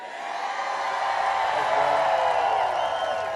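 Crowd at a President Trump rally in Winston Salem, North Carolina, swelling into sustained cheering and whooping, loud and dense throughout.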